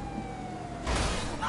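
Police car siren in a GTA video game, a thin wailing tone over engine noise that bursts into a loud, harsh blare partway through, brief and close.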